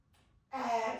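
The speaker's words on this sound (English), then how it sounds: "Final one, in through your nose." A single sharp nasal inhale during a Pilates mat breathing exercise, close and clear, rising abruptly after a quiet moment and holding steady to the end.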